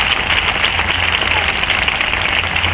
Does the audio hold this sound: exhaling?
no